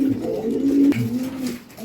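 Pigeons coo in low, throaty, rolling calls, close by and overlapping, with a soft clatter midway.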